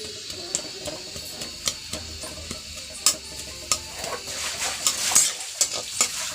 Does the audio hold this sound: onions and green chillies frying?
yes